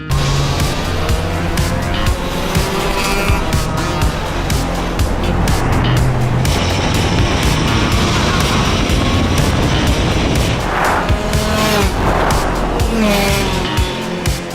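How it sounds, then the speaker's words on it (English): A Tesla Cybertruck and a go-kart race on a tight track, making a loud, continuous motor drone with repeated tire squeals through the corners and no talk. "let's watch a short clip of Cybertruck and a go-kart fighting it on a tight track"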